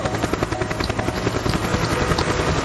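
A helicopter's rotor and engine drone steadily and loudly with a rapid pulsing throb at a Vietnam veterans military museum, close by and without a break.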